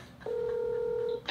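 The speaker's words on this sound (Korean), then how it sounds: "우리 안 짜고 한번 처음 한번 전화 한번 해볼게요. 스피커로 해볼게." A telephone on speakerphone being dialed gives a single steady electronic tone lasting about a second, loud and clear with no talking, before a brief click at the end.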